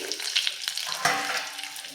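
Stuffed eggplants frying in a pan over a medium flame, a steady close sizzle with crackling pops and a brief stir or clatter partway through.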